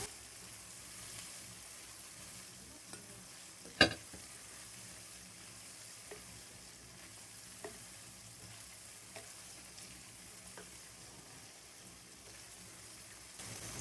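Boiled meat fries with softened tomatoes in a pot for Kabuli pulao, a soft, steady sizzle with occasional clicks and one sharp knock of a spoon during stirring, fairly quiet with no speech.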